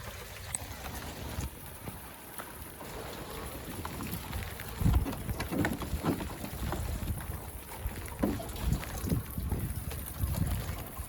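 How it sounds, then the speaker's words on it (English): Steady trickling and splashing of rainwater running down the pipe of a rain barrel outdoors, fairly faint, with soft gusts of wind in the background. "I think I can hear rain coming down the pipe of our rain barrel here."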